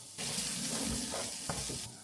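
Bolognese sauce with added hot beef stock is stirred in a pan, giving a steady wet sizzle and scraping under about two seconds of continuous sound, with brief spoon clinks near the end.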